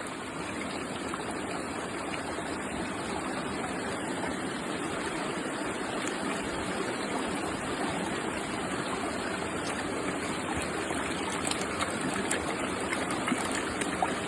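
Water runs steadily through a gold pan during alluvial gold panning in Normandy, France, a continuous close rushing trickle with faint splashes throughout and no talk.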